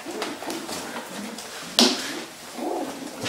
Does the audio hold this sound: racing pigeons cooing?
yes